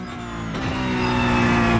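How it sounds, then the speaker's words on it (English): A Porsche 911 GT3 Cup 992 race car engine and exhaust in a racing simulator, a steady, close, rising rev that builds in loudness without any talk. "So it's got that distinctive Porsche engine and exhaust note"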